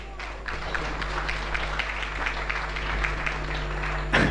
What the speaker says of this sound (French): Et ça s'applaudit, messieurs, dames